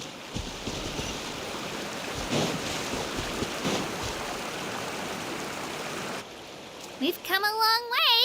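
Ocean waves rushing and washing steadily while surfing in the video game Genshin Impact, a broad loud surf wash that drops away near the end as a voice begins speaking.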